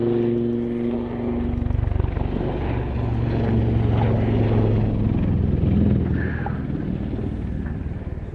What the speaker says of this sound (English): As the Lynx comes into the hover and a big nose down dive away.